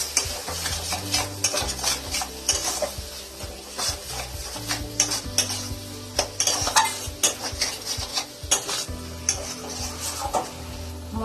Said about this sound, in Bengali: মশলাটা ভালো করে কষে নিয়েছি, মশলার মধ্যে তেল ছেড়ে দিয়েছে।